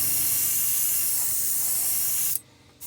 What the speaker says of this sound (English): Make sure that we got pearl white spraying out.